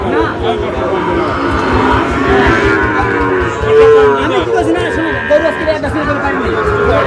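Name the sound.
cattle, bull calves at a market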